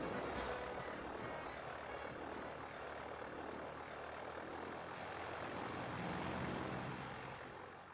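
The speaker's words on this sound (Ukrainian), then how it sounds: "Ой, прям літак, я забув." A steady airplane engine drone plays during a flight sequence in the video game Pokemon Black 2, a constant low, broad hum that stays even and moderately faint across the whole stretch with no voices.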